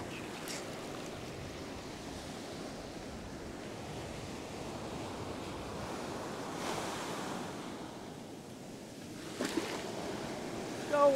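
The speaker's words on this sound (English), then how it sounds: "Go away, waves." Ocean surf rolls steadily onto a beach during shore fishing, a continuous broadband wash with a few swells building and breaking, mixed with some wind buffeting on the microphone.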